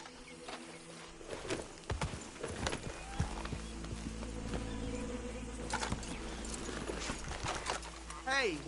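Horse hooves clip-clopping in the Red Dead Redemption 2 video game, irregular steps at close range mixed with game sounds and background noise, with speech-like voices around them.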